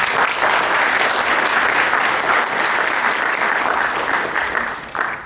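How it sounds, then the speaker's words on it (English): Loud, sustained round of applause from the audience at the Power of Peace annual event, steady for several seconds before tapering off near the end, with no talk over it. "could we give them a round of applause"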